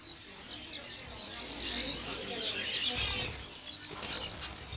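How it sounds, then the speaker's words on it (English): Wild budgerigars in the bush give a busy stream of high, chattering chirps and warbles, several birds calling at once at moderate distance with no voices over them. "the bird is the Budgerigar"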